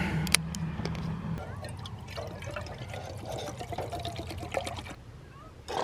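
Water poured into a cup at a campsite on a desert island, a steady close trickle and splash lasting several seconds with a faint background hiss and no talking.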